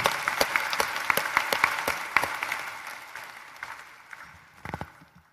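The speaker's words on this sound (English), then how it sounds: "give her a round of applause" A graduation audience at MTSU claps for Dr. Joey Gray, with dense crowd applause and some sharp close claps standing out, gradually thinning and fading before a last small burst of claps.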